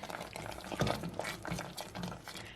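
Cranberry sauce simmering in a pot and being stirred with a spoon, soft bubbling and scraping close by, quiet and steady without talk.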